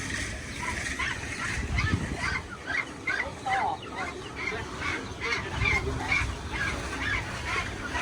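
Ducks close by give repeated honking quacks in irregular bursts, with faint voices in the background.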